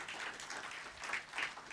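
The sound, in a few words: congregation applauding in church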